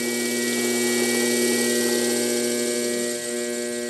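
A small DC motor runs on 110 volts with a steady, loud mechanical hum and whine and constant tonal drone, alone, dipping only slightly near the end.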